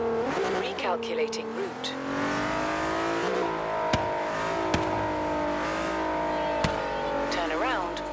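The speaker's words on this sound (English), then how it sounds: "So enjoy the following backfires." A modified Nissan 350Z (Z33) revs and accelerates while driving. Its engine drone rises and falls, broken by a few sharp, loud exhaust backfire pops, while a navigation voice speaks briefly.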